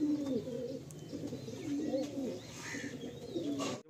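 Pet pigeons at a Kolkata sale loft give repeated soft throaty coos, several overlapping phrases at moderate distance, with no talking.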